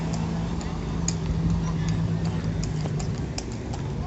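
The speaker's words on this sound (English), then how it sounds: "Horses are making a bit of noise." Faint horses' hooves clip-clopping on a hard street in Blackpool beneath constant traffic rumble and distant murmuring voices.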